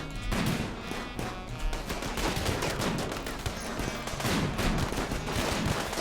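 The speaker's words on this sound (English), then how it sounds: "Whoa, they're shooting at us." Rapid gunfire rattles in the colony-management video game RimWorld: dense, overlapping bursts of shots keep going at a steady loud level for the whole stretch, with no talking.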